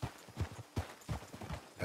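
Rhythmic clip-clop of horse hooves at a steady walking pace in Red Dead Redemption 2, about a dozen clear hoofbeats, fairly close and moderately quiet.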